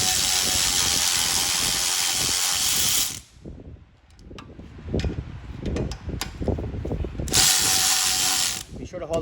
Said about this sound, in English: If you have an electric ratchet like this, I recommend you use that